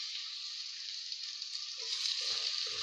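Chicken gizzards sizzle steadily in a hot pan, a constant bright frying hiss throughout that swells slightly toward the end, with faint clatter of pieces being added alongside.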